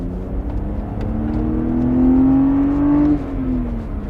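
A BMW 130i E87 inline-six revving loud and close, its tone climbing smoothly to a peak and then dropping away as the throttle closes, with no voices.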